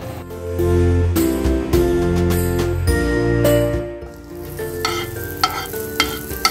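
Butter melts and sizzles in a heated non-stick pan on a stove before a chapathi pizza goes on. A steady, fairly loud frying hiss with light stirring and clinks runs throughout, over a tonal background.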